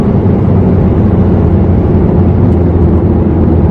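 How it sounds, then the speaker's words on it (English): Car engine braking during a break-in drive, throttle let off in fourth gear, a steady loud rumbling drone with broadband road and wind noise, continuous and close. "Let an engine brake."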